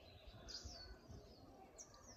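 A small bird chirps nearby in a couple of short, high calls over steady outdoor background noise at a retreat.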